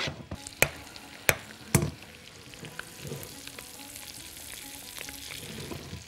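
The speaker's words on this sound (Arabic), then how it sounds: "بحمر انا البيف بيكون، عايز احمر البيف بيكون ده او البسترما او الدراي بيف او السموك تركي" Beef bacon sizzles steadily in a hot pan, with a few sharp clicks and pops near the start, then an even crackle that continues alone with no talking.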